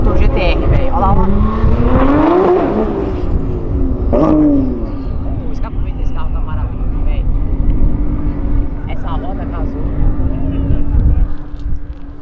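A Nissan GT-R and a drag car make a half-mile drag racing pass: loud engine roars rise in pitch through gear changes and sweep past, then settle into a steady drone, with people talking over the noise throughout.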